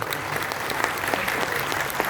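An audience at a motivational seminar breaks into loud, dense applause, continuous clapping from a crowd for the whole short stretch.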